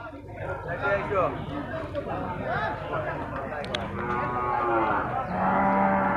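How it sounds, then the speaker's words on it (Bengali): Cattle moo repeatedly at a busy open-air cow market in Ullapara, Bangladesh, with several long, drawn-out calls rising over steady crowd chatter and people talking nearby. "এই সুন্দর সুন্দর গরুগুলো ঘাস খাচ্ছে"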